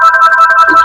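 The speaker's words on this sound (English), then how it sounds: "Sorry about all the phone ringing." A phone rings with a loud, rapid trill in quick pulses, alone and close, electronic and steady throughout.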